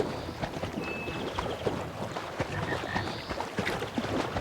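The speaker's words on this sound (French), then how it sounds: "On entend des grenouilles." Frogs croak in a video game's outdoor ambience, a soft, steady chorus of repeated short croaks and chirps over a faint background of wind and scattered clicks.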